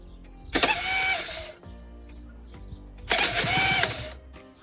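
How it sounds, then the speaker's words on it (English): A worn-out starter motor on a 1999 Aprilia RS125 two-stroke motorcycle cranks in two loud, close bursts of about a second each, a harsh mechanical whir with a pause of quiet between them. "the starter motor had absolutely had it, and that was made pretty evident by this sound"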